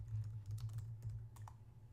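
Quick, irregular clicks of typing on a computer keyboard, entering a search into a library database, close and clear over a low steady hum.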